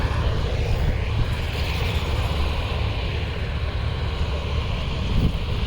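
A combine harvester cutting wheat gives a constant, loud, broadband roar with a deep engine drone, steady and close throughout with no talk.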